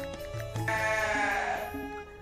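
Dorper sheep in a pen bedded with sawdust give a loud, close bleat that swells and wavers for over a second, with lower bleats and bleats from other sheep before and after it.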